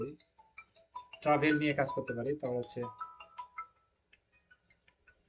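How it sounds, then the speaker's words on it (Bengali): A brief spoken phrase is followed by a mobile phone ringtone playing a short melodic pattern of bright tones, then near silence. "একটু ওয়েট, এটা আমার ফোন আসছে।"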